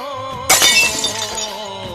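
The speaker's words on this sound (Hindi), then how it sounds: "वो गलती से ग्लास टूट गया" A drinking glass breaks with one sharp, loud crash and bright shattering, then a short tinkle of shards dying away over a quiet background tone.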